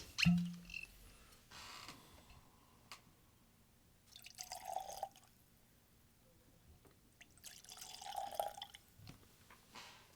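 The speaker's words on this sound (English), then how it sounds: "Let's have a glass. Yes, time to pour." Glenfiddich 21 year old rum cask whisky poured into a glass, quiet liquid trickles and drips in a few short bursts separated by near-silence, close and soft.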